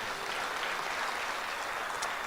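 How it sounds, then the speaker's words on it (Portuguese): A church congregation claps in unison during a sermon, a soft, even wash of applause heard from a distance at low volume, sustained without pause. "Vamos aplaudir esse Jesus."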